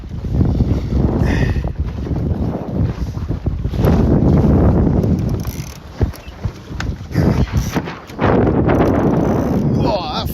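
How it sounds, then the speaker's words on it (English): Heavy wind buffets the microphone aboard a Zenith sailboat as it tacks, with loud, gusty rushing and creaks and knocks from the boat, briefly easing midway before surging again. "First tack coming up."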